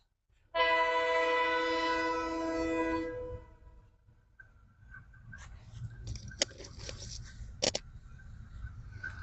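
A train on a railway line sounds a long, loud horn blast, then its wheels rumble and clatter over the track with sharp metallic knocks as it rolls past nearby.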